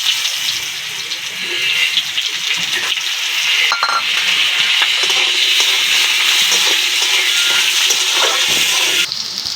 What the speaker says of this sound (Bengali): এবার আমি এর তেলের মধ্যে দিয়ে দিচ্ছি আলু।